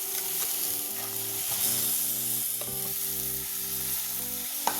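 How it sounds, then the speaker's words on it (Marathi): Onion sautés in hot oil in a pan while being stirred, making a steady, close sizzle and frying crackle with occasional scrapes, alone, with no voices. "हे बघा, कांदा छान परतला जातोय।"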